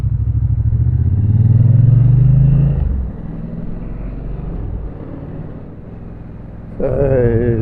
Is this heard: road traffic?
yes